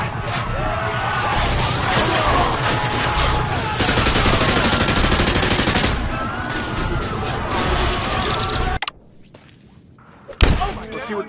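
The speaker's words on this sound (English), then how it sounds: "many of us just emptied our guns into innocent people" Dense, rapid video-game gunfire rattles in sustained loud bursts as civilians are shot, a continuous hail of shots and thuds that cuts off abruptly, followed by a brief hush and a final sharp crack.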